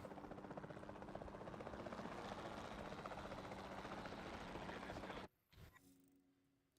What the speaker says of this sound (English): I'm piloting the helicopter